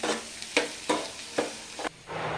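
Vegetables for veg manchurian being stirred in a hot pan, with several distinct scraping strokes of a spoon at a steady rhythm over a continuous frying sizzle.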